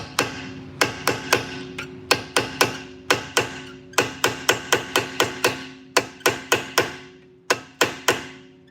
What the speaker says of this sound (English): I'm driving this caliper pin out, and like I said, these get stuck